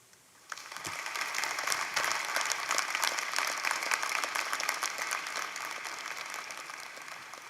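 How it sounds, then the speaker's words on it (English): A university commencement crowd of the College of Veterinary Medicine applauds the graduates' family and friends. The clapping bursts in after a brief quiet start, swells into dense, steady applause from a large audience, then tapers slightly toward the end. "let's give a round of applause to the family and friends who are with you today"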